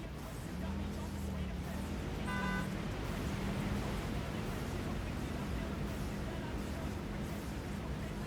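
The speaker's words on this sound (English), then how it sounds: "the horn is definitely loud and obnoxious" A car horn in the Satisfactory video game toots briefly in the middle, set against a steady drone of engine and wind noise and a low continuous hum.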